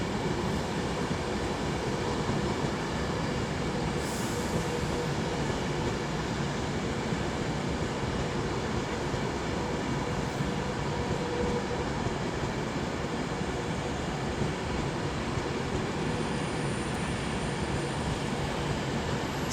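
A passenger train, worked by 39132, rolls through Birmingham International station on the West Coast Main Line, a steady, moderately distant rumble that holds evenly throughout.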